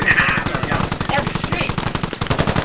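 Machine gun fire in the military shooter Squad, a rapid, loud, even burst of shots running through the whole stretch, with a voice talking briefly over the firing near the start.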